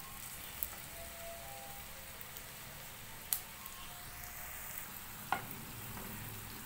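Sliced potatoes fry in hot oil in a pan, a steady, moderate sizzle that runs throughout, with a few brief sharp clicks and pops.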